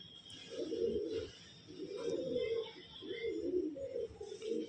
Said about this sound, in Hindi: ये कबूतर है भाई